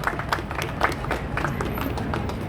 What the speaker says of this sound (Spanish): Un aplauso para la dama.